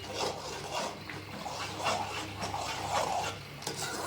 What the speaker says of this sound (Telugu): నీరంతా తిరిగిపోతే మూత లేకుండా వేపుకోవాలి, హైలో పెట్టుకొని.